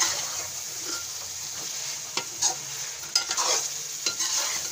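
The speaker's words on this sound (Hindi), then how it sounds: "इन सब चीज़ों को आप मिला लीजिए।" Chicken karahi spices are stirred in a pan, with a steady sizzle of frying beneath irregular scraping strokes that grow more frequent toward the end. Close and moderately loud, with no talking.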